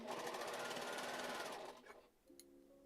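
A sewing machine runs with a rapid rhythmic stitching whir, then slows and stops, leaving a faint hum and a small click.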